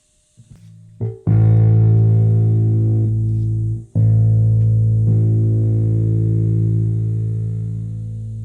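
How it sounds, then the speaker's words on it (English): Bass guitar with added distortion, two long sustained gritty notes, the second struck near the middle and left ringing as it slowly fades. "So just adding the distortion."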